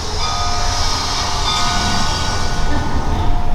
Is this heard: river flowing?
no